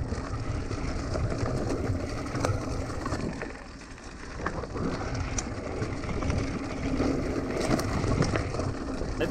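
Upgraded Walmart Hyper Carbon X mountain bike riding a trail section at speed, a continuous rumble of tires and rattling components with sharp clicks and knocks, steady and close with a brief softer dip midway.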